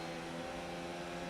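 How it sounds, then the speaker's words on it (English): A vacuum cleaner runs steadily in another room, a continuous muffled drone with a layered motor hum, moderately loud and without pause or talk over it. "Sorry about that if you could hear the vacuum in the background."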